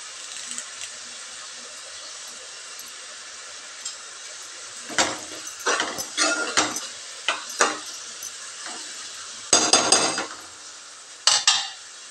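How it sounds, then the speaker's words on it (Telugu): Curry leaves drop into hot oil for an egg boondi curry, giving a steady close sizzle broken by several sharp clinks and scrapes of a metal spoon against the pan. "కరివేపాకు కూడా ఇప్పుడే వేసేస్తున్నాను."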